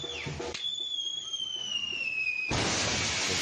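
Fireworks exploding at a church in Mexico: a burst of crackle opens, then a long rising whistle runs for about two seconds before a loud, dense blast and roar of explosions fills the rest.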